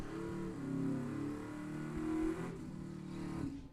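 Camaro drag car on a license run at Byron Dragway, a loud sustained engine roar with rising, revving harmonics that holds for several seconds before dropping away near the end.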